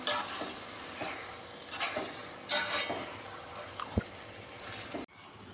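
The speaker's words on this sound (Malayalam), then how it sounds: "നേരത്തെ ഫ്രൈ ചെയ്ത് വെച്ചിരുന്ന ചിക്കൻ പീസ് നമ്മളൊന്ന് ചേർത്തിട്ട് നന്നായിട്ട് ഒന്ന് ഇളക്കി കൊടുക്കാം." Pieces of fried chicken stirred in a hot pan, giving intermittent scraping swishes over a low sizzle and ending with a sharp knock before it goes quiet.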